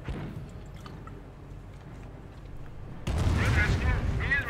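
A firestorm artillery barrage in Company of Heroes 1 crashes in abruptly after a stretch of quieter battle noise, loud rumbling impacts with crackling debris, while a caster keeps commentating over it.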